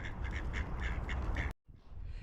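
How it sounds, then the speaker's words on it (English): Ducks on a frozen pond in a park, a quick rhythmic series of loud nasal quacks nearby that stop abruptly. "Look at all those ducks skating on the pond."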